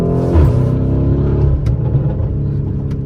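A Lamborghini Urus engine revs and drones while driving at night, a loud, close, continuous low rumble that swells briefly and then settles into a steady cruising hum.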